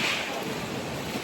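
Strong wind at Suluban Beach, Bali, roaring and buffeting against the microphone, a dense continuous rush of noise with no voices.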